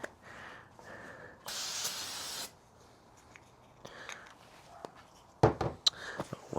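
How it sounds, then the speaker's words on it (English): Contact cleaner sprayed onto a motorcycle radiator fan during a fan install on a 2024 KTM 300 XC-W: one steady hissing burst of about a second, loud against quiet handling noises before and after. "I'm actually gonna spray a little contact cleaner on there."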